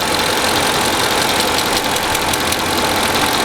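A Mercedes AMG V8 engine idles loudly and steadily, with a rapid ticking that comes and goes from one cylinder bank to the other, heard up close with no voices.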